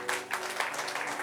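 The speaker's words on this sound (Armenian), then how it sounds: "արի ծափարենք մեր Աստծուն։" A church congregation clapping in praise during an Armenian sermon, a brief, fairly faint patter of applause with a few sharper claps standing out.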